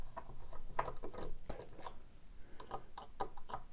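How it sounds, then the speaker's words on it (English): Small metal screws being undone from a Bluetooth speaker assembly during a teardown, heard as quiet scattered clicks, ticks and ratcheting scrapes spread irregularly over a few seconds, close by with no talking. "there are four screws here, so we'll undo those screws."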